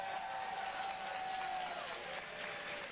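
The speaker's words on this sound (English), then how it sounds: "So give yourselves a round of applause for that." Audience applause at a tenth-anniversary broadcast for the game Dead by Daylight, a steady dense clapping that holds at an even level for the whole stretch.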